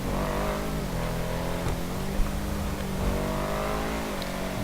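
A Benefactor Schlogen car engine in a video game hums and revs steadily with rising and falling pitch, a continuous mid-range drone with a brief bump partway through.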